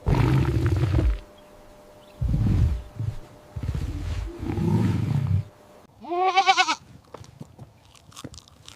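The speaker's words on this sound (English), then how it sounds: "It's a goat." Goat calls: several rough, throaty bleats up close, followed by a higher wavering bleat and a few faint clicks near the end, with no talking.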